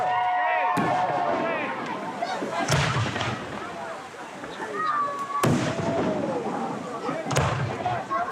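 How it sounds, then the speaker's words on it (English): Fireworks burst over a backyard party with a water slide, several loud booms spaced a couple of seconds apart, with crackling and crowd voices underneath and talk throughout. "the fireworks begin."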